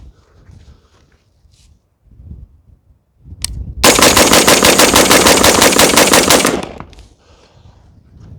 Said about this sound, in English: we probably need to just mag dump this thing, right?